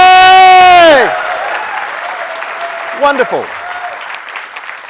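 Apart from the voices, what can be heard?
audience bursting into spontaneous applause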